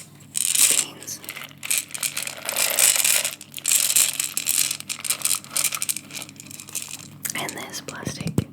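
A handful of coffee beans is handled in a loosely sealing jar, giving close, continuous rattling and clicking with soft crinkly textures and breathy whisper-like voice sounds.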